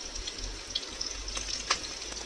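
Ginger, garlic and green chilli fry in hot oil over a high flame, giving a steady close hiss with a few small crackles and pops.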